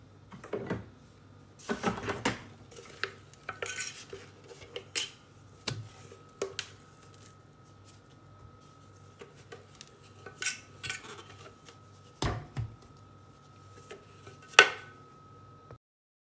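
Scraper working cracker dough out of a Thermomix bowl onto a floured worktop, giving scattered clinks, knocks and scraping taps against the bowl at irregular intervals over a quiet background.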